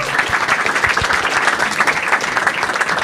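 A stand-up comedy audience applauds in a dense, even wash of clapping that holds steady and loud for the whole stretch, with no voices standing out.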